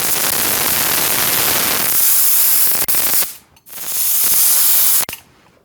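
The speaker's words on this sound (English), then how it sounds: "Hopefully you can see the spray pattern a little better from the side here." A Tilswell Pinto paint sprayer spraying clear coat gives a loud, close, hissing airy blast in two long bursts. Each burst cuts off sharply with a click, and a short quiet gap falls between them.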